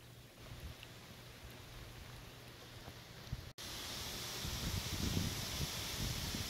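Rain falls on the canvas of a pop-up camper, first a light patter, then a sudden louder, denser hiss of drumming drops partway through that holds steady to the end, with no voices.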